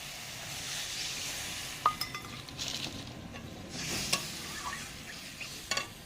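Water poured into fried spice masala in a pan for a mustard pabda fish curry, giving a steady sizzle with scraping stir strokes and a few sharp metal clinks.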